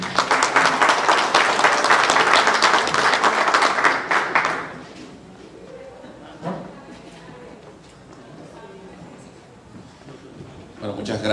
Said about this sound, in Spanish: recibamos con un fuerte aplauso al arquitecto Eric Dorrego